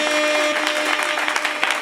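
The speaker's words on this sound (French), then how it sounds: "Nous pouvons applaudir s'il vous plaît." Brief burst of audience clapping at a Gabonese political gathering, dense and fairly loud, with sustained musical tones running underneath.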